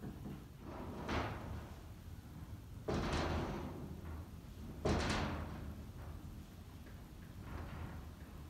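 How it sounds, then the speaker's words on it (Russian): Several loud knocking thuds at irregular intervals as windows bang in strong gusts in Korea, over a steady low rumble of wind. "Слышите, как окна стучат?"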